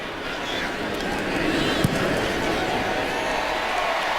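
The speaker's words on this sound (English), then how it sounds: "You hear the crowd because they announced the touchdown has been reviewed" Stadium crowd roaring after a touchdown is confirmed in an NFL game between the San Francisco 49ers and Carolina Panthers, a broad sustained roar filling the background with a broadcast voice talking over it.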